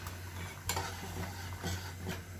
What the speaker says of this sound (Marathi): चांगली ढवळते आहे हळद घालून